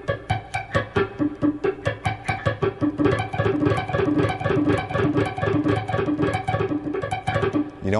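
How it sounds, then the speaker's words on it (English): Guitar with strings muted under the fretting hand, picked in a steady, fast alternate rhythm, producing a dense run of close, percussive, dampened plucks with no talking. "Now you can actually mute the strings and work on just the right hand."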